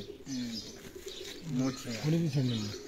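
Sturdy golden pigeons coo close by in a series of low, rolling, throaty calls, a couple of short bursts early, then a livelier run of several coos toward the end, with faint chirps around them.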